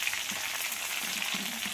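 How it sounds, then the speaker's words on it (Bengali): Pieces of raw mango fry in hot oil, producing a soft, steady sizzle and light crackling that continues throughout at low volume. "আমটাকে দেখুন 15 মিনিট আমি খুব ভালোভাবে ভেজে নিয়েছি,"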